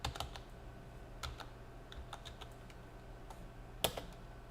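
Keystrokes on a computer keyboard as a command is typed into a terminal, a few scattered soft taps with a slightly sharper final press, faint and close with no talking.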